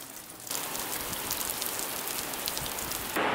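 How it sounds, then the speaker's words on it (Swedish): Heavy autumn rain pours down at an outdoor skatepark build site, a dense, loud, continuous hiss that starts abruptly after a quieter moment and holds steady throughout. "Som ni säkert hör så bara öser regnet ner nu."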